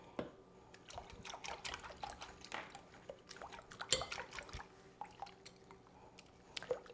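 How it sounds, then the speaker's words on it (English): A spoon stirs ground red pepper into a pot of broccoli cheese soup, giving soft irregular wet clinks, drips and squishy sloshes, quiet and close, with no voices. "I'm going to mix that in."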